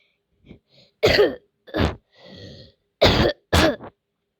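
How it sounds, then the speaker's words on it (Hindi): A series of harsh coughs and throat clearings, close and loud, separated by short pauses. "मुझे खांसी है"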